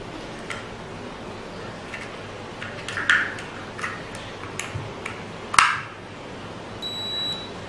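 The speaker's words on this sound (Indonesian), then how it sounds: "sudah terdengar bunyi bip berarti alatnya sudah bisa digunakan dan batu baterainya ini sudah terpasang" A Family Dr uric acid meter sounds a short electronic beep once its batteries are put in, a faint high tone standing out against quiet room background with a few small clicks before it.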